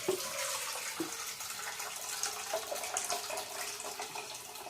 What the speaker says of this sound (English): We're going to drain that into a container.